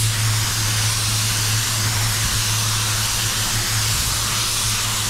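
A spray gun lays a fast, light double control coat of candy red paint from about 15 to 17 inches away, giving a steady, loud, unbroken hiss with no talking.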